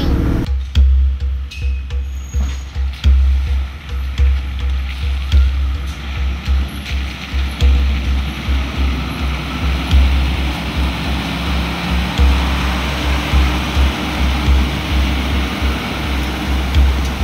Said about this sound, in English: this is our first creek crossing